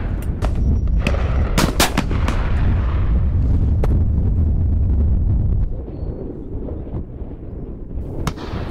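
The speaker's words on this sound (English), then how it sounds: "here he's proven his no mean shot at both pheasant and partridge." Shotguns fired at a pheasant and partridge shoot, a rapid run of sharp, loud cracks in the first half with several closely spaced blasts, then scattered fainter reports and an occasional distant shot later on.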